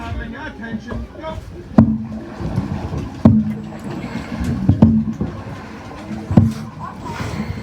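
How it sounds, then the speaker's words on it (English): Dragon boat teams racing for charity paddle past on a river, with rhythmic paddle strokes and splashes landing about every second and a half under continuous crowd chatter. "these fabulous people on little dragon boats coming past"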